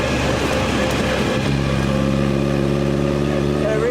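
A vintage Brooklands racing car engine labours up a steep hill at around 2,500 rpm, a loud, steady rumbling drone that settles into an even note partway through, with a voice talking over it.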